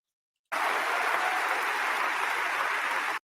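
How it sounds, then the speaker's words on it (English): Crowd cheering and applauding at a political event, a dense, loud wash of clapping and cheers starting abruptly after a brief silence and holding steady to the end. "Are they cheering this?"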